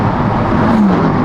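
A BMW M4 Competition, stock and untuned, drives hard with its rear end sliding out, giving a loud continuous engine roar with a rising whine partway through and no talk over it.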